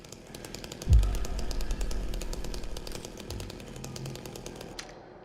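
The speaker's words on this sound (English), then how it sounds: "The problem with the chainsaw, even though it does so much damage, is the fact that it's so slow and it's easy for them to dodge" A chainsaw weapon in the Silent Hill 2 video game strikes at enemies, a loud revving buzz with a sharp hit near the start, then a steady rattling drone that fades out at the end.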